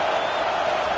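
A large stadium crowd roars steadily in the NCAA 25 college football video game, a dense, loud wall of cheering with no breaks.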